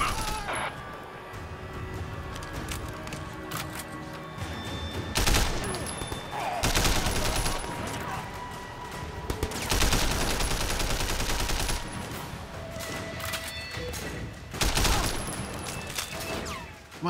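Gunfire from firearms in the video game Sleeping Dogs, dense bursts of rapid shots and automatic fire rolling in waves over a continuous loud battle din, with a voice briefly under it.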